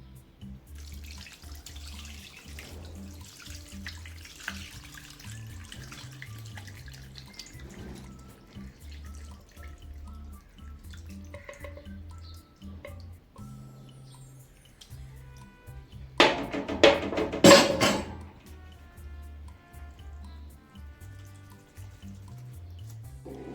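Water poured over soup in a pot to cover it while cooking maqluba, a brief splashing gush near the end that follows quiet kitchen sounds and soft drips.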